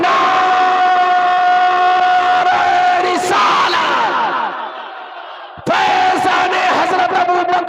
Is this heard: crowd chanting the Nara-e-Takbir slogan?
yes